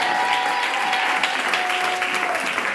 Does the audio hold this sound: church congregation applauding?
yes